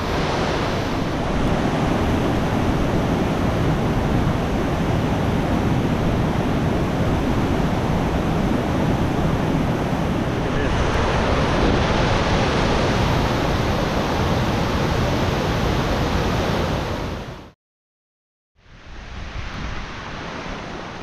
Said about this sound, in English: and then we get the spray of the waterfall.